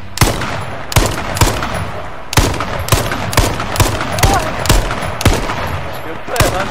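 Rapid gunfire rings out in the battle royale video game H1Z1, a string of sharp, loud shots spaced irregularly over several seconds, some in quick pairs.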